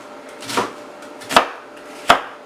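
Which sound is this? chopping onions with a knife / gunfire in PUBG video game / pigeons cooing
chopping onions with a knife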